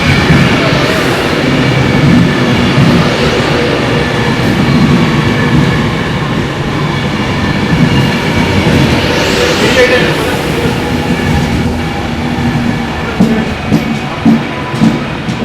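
A train pulls into a Manchester railway station platform, its steady rumble and rolling rail noise filling the space with a brief brighter squeal midway, while voices talk over it.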